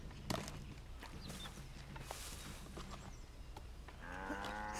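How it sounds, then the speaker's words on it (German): Cattle low in a wild forest area of Assassin's Creed III, a few distinct moos rising over quiet ambient game sound, with a longer, louder moo near the end. "Oh, hier sind Kühe in freier Wildbahn"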